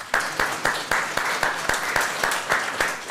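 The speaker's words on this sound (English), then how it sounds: "Big round of applause," A lecture audience claps together in a round of applause, with sharp, regularly spaced hand claps sounding up close over a continuous wash of clapping.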